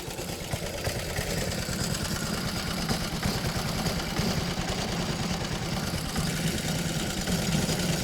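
A 1919 Grafton Cyclecar engine runs steadily in first gear, a continuous low, throbbing mechanical drone with rapid rhythmic pulsing, close and unchanging throughout with no talk.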